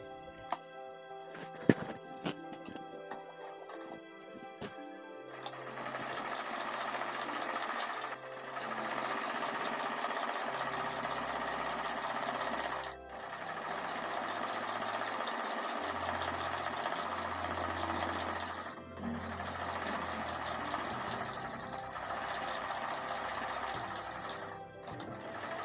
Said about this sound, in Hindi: तो आइए सिलाई लगा लेते हैं।